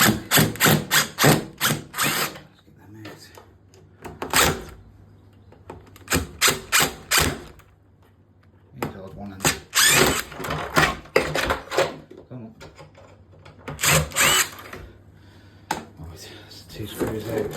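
A power drill drives out screws while an old plumbing unit is removed, giving loud whirring bursts in quick clusters separated by quieter pauses with handling noise.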